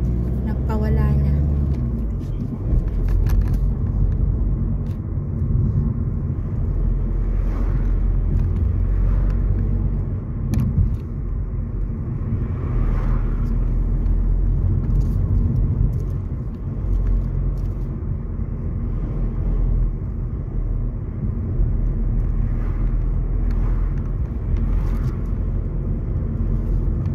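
Road traffic rumbles steadily throughout as cars pass in a continuous low drone, with voices talking underneath.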